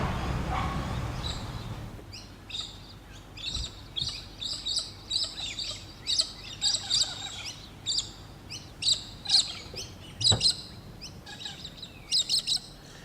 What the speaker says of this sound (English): Galahs, feeding on the grass seeds in the park